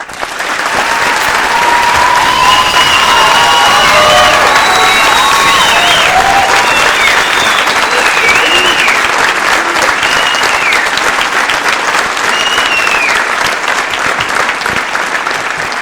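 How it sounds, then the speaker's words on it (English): A large audience at a graduation ceremony claps steadily and loudly for a long stretch, with a few cheers and whistles rising above the dense applause. "Please join me in a round of applause."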